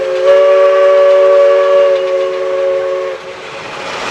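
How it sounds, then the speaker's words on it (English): A loud, steady whistle from an antique gear-driven steam locomotive warming up sounds for about three seconds, then cuts off, leaving a softer hiss and rumble of the idling engine. "that old antique steaming locomotive warming up"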